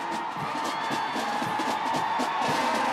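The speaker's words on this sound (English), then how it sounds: "In New York, a huge crowd cheered them on like heroes." A huge New York crowd from 1979 cheers, whoops and shouts in a dense, continuous roar heard in an archival recording.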